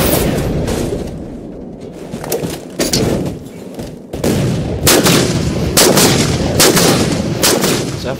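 Halo 4 sniper rifle fired from the hip in video game play, repeated loud gunshot blasts with sharp cracks and booming tails over constant in-game noise, close and dense.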